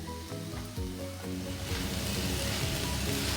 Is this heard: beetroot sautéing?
yes